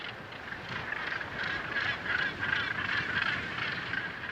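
Gannets at a crowded seabird colony keep up a dense, continuous chorus of harsh honking calls, steady and moderately loud with no voices.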